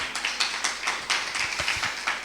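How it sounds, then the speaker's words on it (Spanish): A congregation claps together in applause during a Hoshana Rabbah and Shemini Atzeret worship service, with dense, steady clapping that holds at an even level throughout. "Vamos a dar un aplauso"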